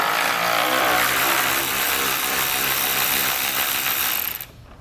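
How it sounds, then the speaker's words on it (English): A ratchet with a 10mm socket backs bolts out of a 2016 GMC Sierra's front end, a loud, continuous close-up ratcheting whir that runs steadily and then cuts off near the end. "So we'll grab a 10mm socket and pull it out."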